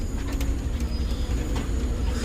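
Steady rumble of a studio tour tram riding through Universal Studios Hollywood, with faint rail-like clatter and a low hum throughout, no talk.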